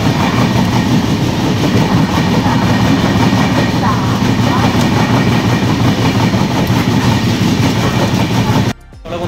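Loud, steady rumble and rhythmic clatter of the Poorva Express running through Ghaziabad Junction near Delhi, heard from inside a 2-tier coach, continuous throughout before a sudden drop near the end.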